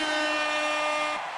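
A single sustained air horn blast, loud and harmonically rich, held steadily for just over a second before cutting off abruptly.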